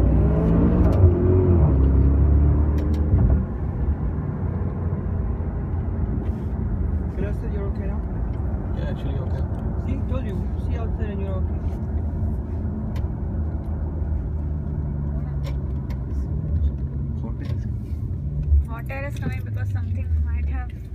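Land Rover driven fast, engine droning and shifting in pitch with steady road and wind noise from inside the cabin, while people talk over it.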